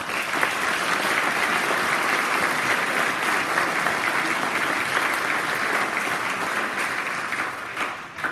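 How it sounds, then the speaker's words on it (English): A banquet crowd at a 2018 expo dinner claps for corporate sponsors, dense and sustained applause filling the room for several seconds before tapering off at the end. "So another round of applause for our corporate sponsors."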